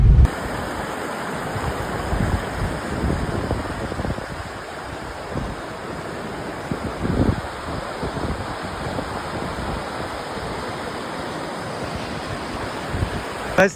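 Steady rushing water of a river flows continuously with a broad, noisy wash, running nearby in Ladakh, with some wind buffeting the microphone.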